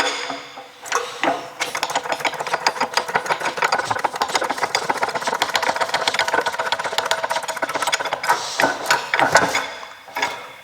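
Press forcing a rubber bushing out of a 2010 Porsche Cayenne 957 front lower control arm, giving a continuous mechanical whir with rattling and clanking that fades in, runs steadily, then ends with a few sharper knocks.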